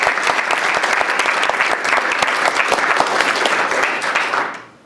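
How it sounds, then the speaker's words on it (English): A conference audience gives loud, sustained applause before a keynote address on equality, a thick wash of many hands clapping that fades out at the very end. "So, round of applause."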